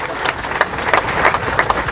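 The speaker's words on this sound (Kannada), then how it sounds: "ಜೋರಾದ ಚಪ್ಪಾಳೆ ಮೂಲಕ ಸ್ವಾಗತವನ್ನು ಮಾಡಿಕೊಡ್ರಿ." A rally crowd at a water protest in Hukkeri claps loudly to welcome an arriving swami, a steady dense wash of applause with sharper individual claps popping out, continuous for the whole stretch without talk.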